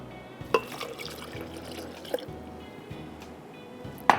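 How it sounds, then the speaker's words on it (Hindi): A cup of milk poured into a pan while cooking, with soft liquid trickling and a few small drips and splashes standing out, fairly quiet. "उसके बाद हम इसमें डालेंगे दूध 1 कप"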